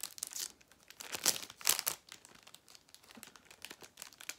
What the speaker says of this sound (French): Alors je vais ouvrir le sachet.